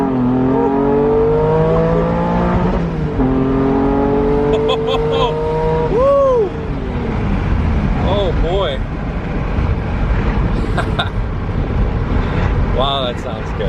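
A supercharged Honda NSX engine revs hard while driving, rising and falling through several gear pulls with whine and exhaust roar up close, loud and continuous, with occasional talk from the occupants.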